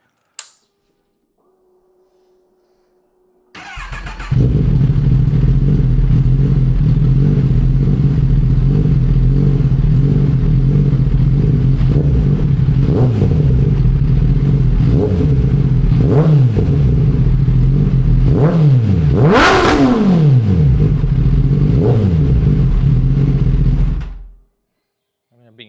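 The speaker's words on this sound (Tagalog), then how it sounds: "ganito naman tunog ng 10R kapag nagpalit kayo sa SC Project exhaust." A Kawasaki ZX-10R fitted with an SC Project SC1R full-system exhaust starts up, idles loudly, then is blipped through several sharp revs that climb and fall, with one high rev peak near the end before it cuts off.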